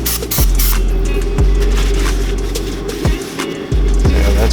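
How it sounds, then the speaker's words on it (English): Brake cleaner hisses loudly from an aerosol can into the cylinder of a KX250F dirtbike engine, a close, continuous spray broken by a few sharp clicks and pauses. "we're going to hit this with some brake cleaner"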